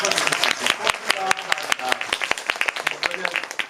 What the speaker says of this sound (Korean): 모든 관계자분들을 위해서 박수 한 번만 또